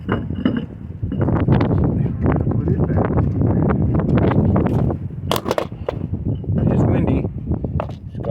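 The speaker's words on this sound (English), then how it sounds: "Awfully windy" Gusty wind buffets the microphone outdoors during a Toyota Corolla half shaft replacement, in loud, rumbling bursts, with brief pauses and a few faint clinks and rustles in between.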